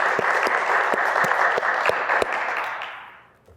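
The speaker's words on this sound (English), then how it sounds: "Please join me in a warm round of applause for all our graduates." Graduates at a University of Winnipeg convocation ceremony receive a warm round of applause, broad steady clapping from a large audience with a few sharper claps standing out, fading away toward the end.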